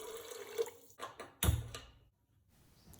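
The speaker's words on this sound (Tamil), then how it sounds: "கழுவுன அரிசி பருப்பு கூட 5 டம்ளர் தண்ணி சேர்த்துக்கலாம்" Water for sambar rice is poured into a pot of washed rice and lentils in a home kitchen, making a few short, quiet splashing bursts that end in near silence.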